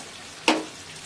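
Spices sizzling in a pan while being sautéed for a raw banana kofta curry, one short loud burst of frying hiss that fades quickly, heard alone.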